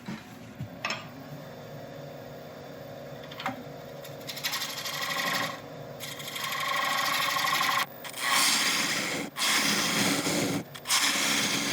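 A wood lathe spins while a tool faces off a lid made of resin and wood, a steady motor whine broken by scraping cutting bursts that grow louder and more frequent toward the end.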